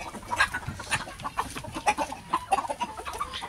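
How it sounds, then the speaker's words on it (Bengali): A rooster on a small hobby poultry farm clucks repeatedly in short, close bursts, with other fowl faintly audible around it and no speech. "গাইস, এই মোরগটাকে কিন্তু আমার অনেক ভালো লাগে।"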